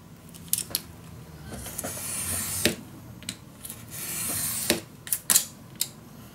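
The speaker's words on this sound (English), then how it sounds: "So I make 2 marks and then I'll cut this away." Scissors snip and rub through Graphic 45 scrapbook paper for a Mother Goose mini album, giving quiet scattered crisp cuts and soft rustling at close range with no talking.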